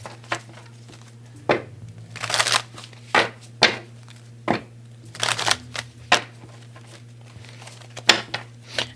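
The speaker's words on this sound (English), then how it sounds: "one more shuffle here" Tarot cards are shuffled by hand in a series of quick riffling bursts and soft slaps, close up, with a steady low hum behind them and no talking.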